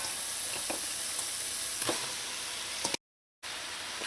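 Curry simmers and sizzles in a pot with a constant close frying hiss and a few faint stirring clicks, cut by a short silent gap near the end.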